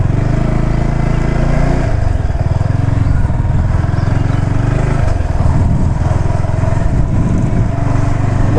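A motorcycle engine drones steadily and loudly up close, a continuous low rumble with no clear revving or pauses.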